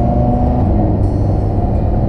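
Engine and exhaust of a blacked-out Lamborghini Huracan in Corsa mode, a steady, loud low rumble heard from inside the car with no distinct pops or cracks standing out.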